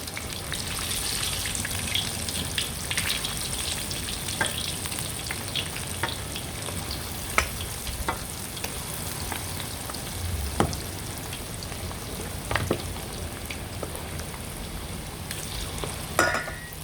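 Battered soft pork bones deep-frying in hot oil, giving a steady, loud crackling sizzle with scattered sharp pops throughout.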